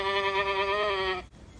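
A male goat, a buck, gives a single long, wavering bleat lasting just over a second, close and clear, then falls silent.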